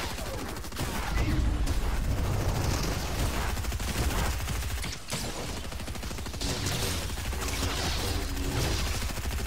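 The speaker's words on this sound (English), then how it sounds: "They're shooting at me." Sustained video game gunfire aimed at the player, a dense, loud barrage of rapid shots running almost unbroken from start to finish with only a brief dip midway.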